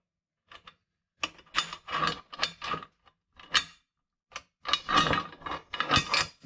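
An anchor release assembly is tightened by hand in a series of short ratcheting, clicking mechanical bursts separated by pauses, close and fairly quiet.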